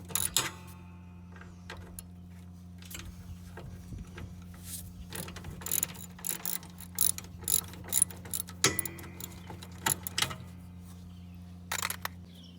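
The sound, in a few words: ratchet wrench loosening 10 mm bolt on scrap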